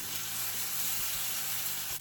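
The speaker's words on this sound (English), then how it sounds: "So we're going to fry this about 3 minutes on each side." Chicken pieces for orange chicken fry in a pan with a steady, close, loud sizzle that runs unbroken, the pieces turned partway through.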